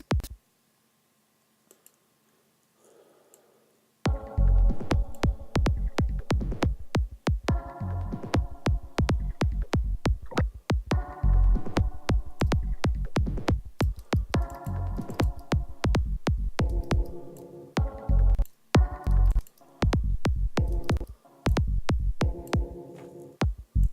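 A deep sub bass drops in beneath a busy, clicking beat, with low sustained tones swelling and repeating in a steady electronic pattern.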